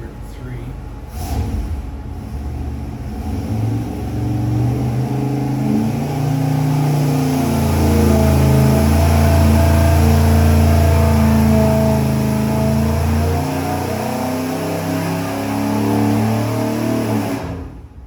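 A motor on a dyno during its break-in run holds a steady, loud mid-pitched engine drone for the whole stretch, rising slightly in the middle and easing without sharp revs. Voices talk faintly underneath.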